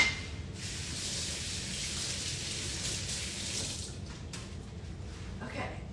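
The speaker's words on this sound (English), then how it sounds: "Let me wash my hands." Tap water runs steadily into a kitchen sink while hands are washed beneath it, a continuous close hiss and splash that shifts slightly as the hands move through the stream.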